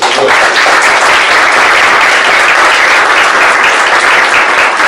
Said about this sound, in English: So thank you, and give them a round of applause.